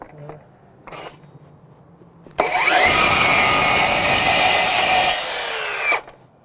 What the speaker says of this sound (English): That was that brake giving out.